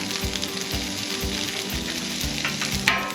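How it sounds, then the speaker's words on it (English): Sliced peppers and onions sizzle on an oiled Blackstone flat-top griddle, a steady close crackling hiss with a few scraping stirs near the end, heard alone. "And you love to hear that sizzle."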